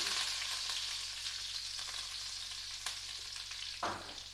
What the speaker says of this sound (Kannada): ನೋಡಿ, ಪಟ್ ಪಟ್ ಪಟ್ ಅಂತ ಹೆಂಗೆ ಆವಾಜು ಬರ್ತಾ ಇದೆ.